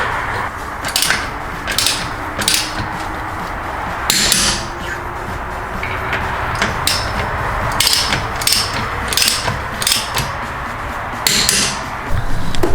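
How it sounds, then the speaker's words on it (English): Lug nuts on BMW wheel studs are tightened to torque, with a steady series of sharp metallic ratchet clicks and taps over a constant background hum. "we will tighten these down to between 88 and 90 foot-pounds of torque"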